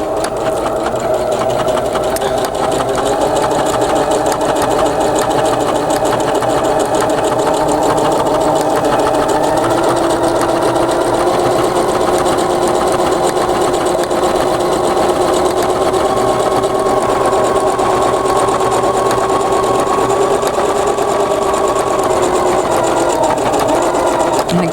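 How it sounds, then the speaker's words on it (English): A PFAFF passport 2.0 sewing machine runs quilting stitches continuously, a loud, close, steady mechanical whir with a rapid needle rhythm and no pauses. "So I'm going to start my first line of quilting."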